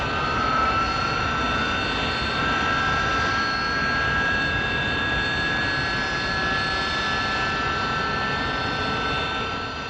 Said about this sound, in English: Onto a pad, nozzles deflected downwards, and the pilot opens up the jets.